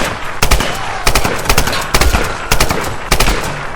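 Gunfire from the video game Tomb Raider (2013) comes in loud, repeated bursts of rapid shots, like an automatic weapon, spaced about half a second to a second apart over a constant noisy background.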